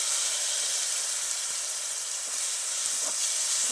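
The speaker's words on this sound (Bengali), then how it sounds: "এবার দিয়ে দেবো জিরে আর ধনে বাটা।" Ground ginger, chili, cumin and coriander paste sizzles with melted tomato in a pan while cooking a well-known hill-region dish, a steady close hiss with no talking.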